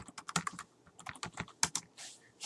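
Someone typing a command for a Mininet-WiFi station on a computer keyboard, a quick close-up burst of crisp keystrokes in an uneven rhythm, ending in a softer press, with no speech.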